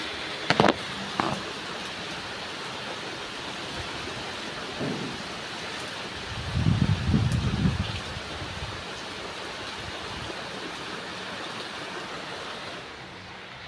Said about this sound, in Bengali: এমন বৃষ্টি হচ্ছে যে আমি একটু এসিও চালাতে পারছি না